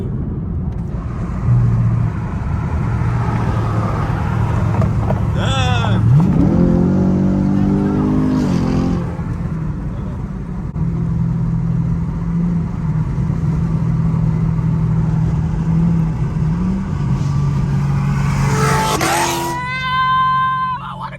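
A Chevrolet Corvette engine idles and revs, rising in pitch as it accelerates, loud and close, with brief voices and a chime near the end, at a car meet in Atlanta.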